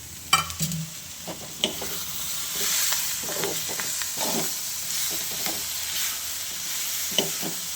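Tomatoes and spices frying in a pan for ivy gourd chutney, with a continuous sizzle broken by repeated spatula scrapes and taps, heard up close with no voices.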